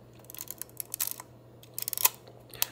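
Quiet, dry clicks and ticks from the film advance lever of a Yashica Electro 35 rangefinder, a short ratcheting burst of small mechanical clicks in two clusters, near and isolated without talk.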